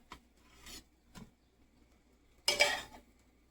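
Shami kebabs lifted onto a plate, a few short scraping and clinking touches of utensil on dish, the last one louder, close and otherwise quiet.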